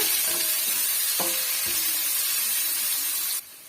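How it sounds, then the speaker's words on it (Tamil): Garlic and onions sautéing in a pan as the base for an okra tamarind curry, a loud, close, steady sizzle with a few spoon scrapes that cuts off abruptly near the end. "வெள்ளை பூண்டையும் சேர்த்துக்கலாம் சேர்த்துட்டு நல்லா வந்து வதக்கி விட்டுடுங்க"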